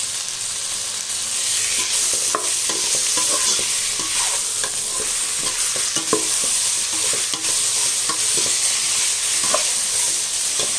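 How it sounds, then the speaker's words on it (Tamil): Chopped tomatoes hitting hot oil with ginger, garlic and green chillies for a vegetable biryani, a steady close sizzle and fry with scattered stirring clicks from a utensil, continuous throughout with no talking. "இப்போ நம்ம அரிஞ்சு வச்ச இந்த தக்காளியை இதில் போட்டுடலாம்."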